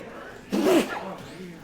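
A single short sneeze, close by, in the middle of a brief quiet moment.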